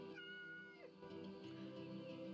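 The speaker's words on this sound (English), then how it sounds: "Stroke the cat." A cat meows in the video game Yes, Your Grace as it is stroked, a few clear drawn-out tonal mews with rising and falling pitch, heard close and alone.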